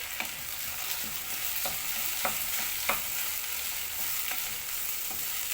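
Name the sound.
rice being stirred into fried onions in a pan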